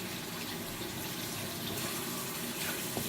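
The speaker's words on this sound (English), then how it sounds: "I'm going to rinse it with lots and lots of water" Strong stream of tap water running into a sink to rinse out a chemistry lab buffer solution, a steady, loud, continuous gush throughout with no talking.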